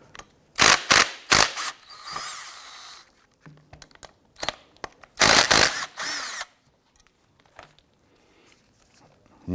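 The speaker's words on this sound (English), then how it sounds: "We're going to use a 13 millimeter socket, remove both of the bolts or slider pins here." A 13 mm socket on a ratchet works loose the brake caliper bolts on a Ram 1500, giving bursts of rapid clicking ratchet strokes in two main clusters, separated by quieter handling clanks, close up without speech.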